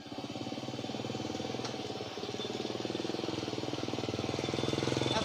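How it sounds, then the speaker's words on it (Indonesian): A motorcycle engine drones steadily and loudly throughout, a continuous buzzing hum that never lets up, as if riding along at speed. "Nu bocah naik motor kencang banget."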